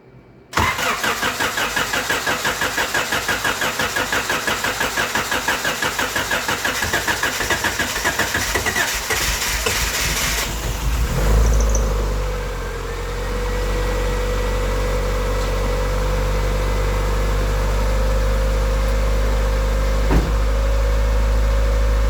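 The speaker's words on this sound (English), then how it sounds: "So I'm going to go ahead and start it, let it run a minute, and we'll see what we got" A 1988 Honda Accord, ice cold and unrun for over a month, cranks with a rapid rhythmic starter chug for about ten seconds, catches, then settles into a loud steady idle with a persistent low rumble.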